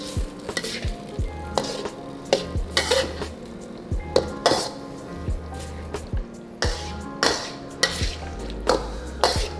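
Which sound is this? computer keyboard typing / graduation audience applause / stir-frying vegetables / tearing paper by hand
stir-frying vegetables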